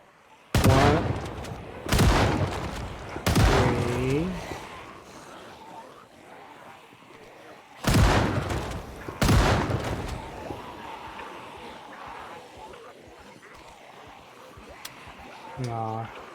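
Five loud gunshots ring out in a video game, spaced across the first ten seconds in two groups, each sharp blast followed by a decaying tail, with a streamer talking between and after them.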